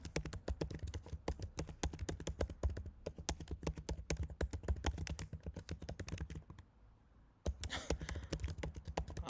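Rapid, steady typing on a computer keyboard fills the room with dense clicking keystrokes, pausing briefly before the rapid clatter resumes, with no talking.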